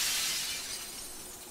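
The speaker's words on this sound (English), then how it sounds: "Because I think I have to crush the glass." Glass shatters in the video game Limbo: one bright, noisy crash that fades off over about a second and a half, with no voices.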